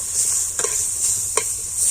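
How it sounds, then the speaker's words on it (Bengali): Vegetables fry with salt and turmeric in a pan, giving a brief steady sizzle broken by two soft stirring scrapes. "তো হলুদ গুঁড়ো লবণটা দিয়ে না সবজিগুলোকে একটু ভাজা ভাজা করে নেব"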